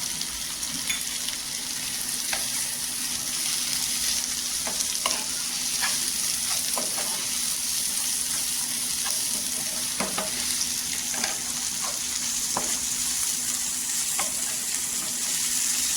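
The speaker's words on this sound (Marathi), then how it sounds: "तेलावर परतून घ्यायचं. इथे अद्रक लसणाची पेस्ट टाकायची 2 चमचा." Ginger-garlic paste sizzles steadily in hot oil for a spicy bombil chutney, with a constant frying hiss and repeated sharp scrapes and taps of a spoon stirring the pan, close and clear with no talking.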